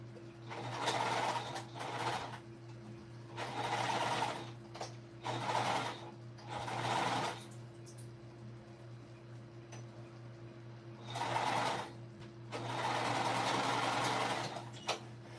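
A sewing machine stitches a shoulder bag in several separate bursts of rapid, even whirring, some short and some running a few seconds, split by quiet pauses over a steady low hum.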